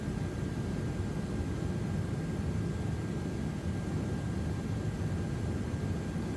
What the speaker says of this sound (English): Tell them don't touch the sounds on engine spool up. Sounds were spot on.